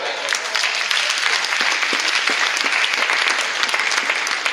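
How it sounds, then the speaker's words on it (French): A church congregation applauds at a French Sunday service, a dense, sustained clapping close by that fills the whole stretch, with faint voices mixed in. "Applaudissez l'Éternel."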